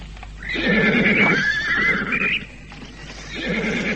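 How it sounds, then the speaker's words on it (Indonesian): Horse neigh with a long, loud whinny rising and falling over the first two seconds, then steady clip-clopping hooves, staged as a sound effect for an Indonesian radio drama. "Kensiwi, siapkan kuda."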